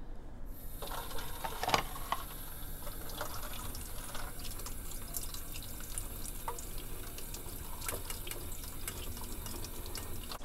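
Tap water runs steadily over a homemade water wheel in a sink, a constant close splashing hiss throughout with occasional small clicks.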